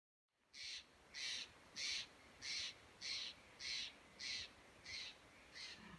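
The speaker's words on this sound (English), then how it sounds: "these birds up here, I don't know if somebody's trying to invade their territory, but they're not having it" Birds calling from the trees on a sunny trail day, a steady run of about nine harsh, evenly spaced caws, moderately distant and clear over faint outdoor background.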